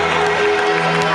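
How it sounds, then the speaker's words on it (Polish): Parents applaud at the end of a youth football match in a tournament in Ełk, a dense, continuous wash of clapping and crowd noise with faint voices mixed in. "Brawa rodziców."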